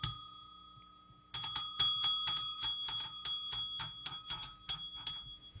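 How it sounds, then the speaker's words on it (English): A bell struck again and again at close range, about twenty bright, ringing hits in a quick, uneven rhythm after a short quiet start, with no talking over it. "That was just abuse of the bell. Don't abuse the bell."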